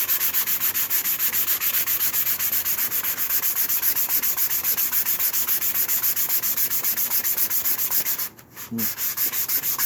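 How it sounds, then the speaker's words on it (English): Fine sander working a wooden cheese board, a loud, continuous abrasive whir and rub with a brief dip near the end, heard up close with no talk. "Now I got the fine sander on here. Let's see how this goes."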